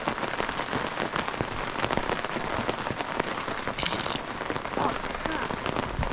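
Heavy rain pours down steadily at a riverside campsite, a dense continuous hiss of drops hammering nearby surfaces from start to finish, with a brief brighter splash partway through.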